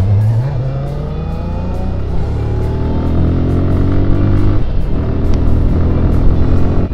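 A 2023 Kawasaki Z900 motorcycle engine revs hard, its loud rising and falling exhaust note climbing through repeated accelerations as the bike rides, close and dominant throughout.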